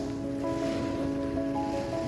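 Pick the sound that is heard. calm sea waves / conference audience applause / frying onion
calm sea waves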